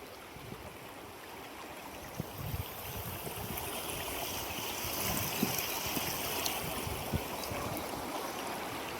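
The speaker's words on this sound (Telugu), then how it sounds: "ఇది పెద్ద వాగు, ఇది భయంకరమైన వాగు అనమాట" Large, dangerously flooded stream rushing in a steady, loud broadband roar of water, continuous throughout with no talking.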